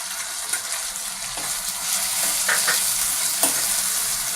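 French beans, cauliflower and carrots are stir-fried together in a pan for pulao, giving a bright, steady sizzle with brief scraping bursts as the vegetables are stirred. No talking is heard.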